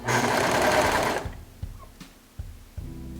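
A sewing machine runs loudly and close for about a second while stitching elastic onto pajama fabric, then stops, followed by a few soft handling knocks.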